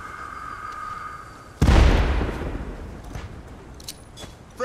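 A sudden loud blast in the shooter game Warface bursts in after a quiet stretch and rolls off into a long rumbling decay, with faint sharp clicks and pops trailing behind.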